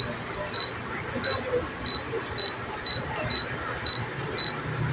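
A Daikin air conditioner with a newly replaced receiver emits a steady series of eight short high-pitched beeps at roughly even intervals, clear and close over faint background hiss.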